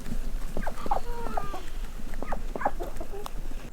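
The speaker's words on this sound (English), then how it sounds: "The chickens and ducks sure do love the bog." Chickens cluck repeatedly at close range beside a creek on a horse ranch, with ducks nearby, in short uneven calls and no voices.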